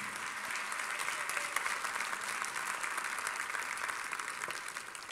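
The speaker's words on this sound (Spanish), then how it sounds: "Dele palmas al Señor esta noche, hermano" A church congregation claps in praise at a night service, a dense, continuous wash of many hands at moderate, even loudness throughout.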